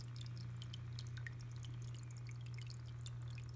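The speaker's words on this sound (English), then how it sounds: "now it sounds like running water, so that's cool" Steady trickling and dripping water from a filter in a 10-gallon aquarium over a constant low electrical hum, close and fairly quiet, with no talking.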